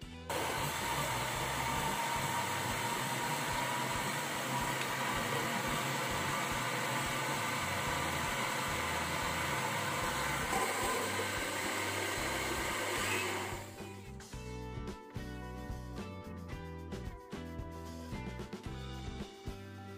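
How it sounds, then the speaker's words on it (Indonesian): An electric blender whirs loudly and steadily for about thirteen seconds while puréeing pumpkin with a little coconut milk, then cuts off abruptly, leaving quieter kitchen sounds. "Kemudian kita blender sampai halus."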